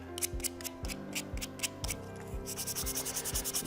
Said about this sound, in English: take your regular sandpaper and just soften the sharp edges everywhere.